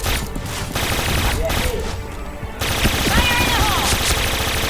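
Bursts of automatic gunfire in the online shooter Point Blank, loud and continuous with a short break, mixed with game effects and a player talking over it.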